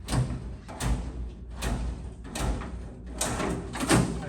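An older Snap-on toolbox drawer is pulled out rhythmically in repeated short tugs, each giving a metallic slide and thump, fairly close and steady over several seconds with no talk.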